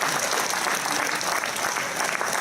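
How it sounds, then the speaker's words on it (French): An audience at a New Year's greetings ceremony in Tarbes applauds steadily, a dense sustained wash of many hands clapping throughout. "Je voudrais qu'on les applaudisse, toutes et tous."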